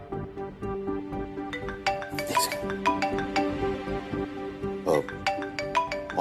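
A melodic phone ringtone chimes in repeated bright notes over a soft background score in an indoor domestic scene, moderately quiet and continuous.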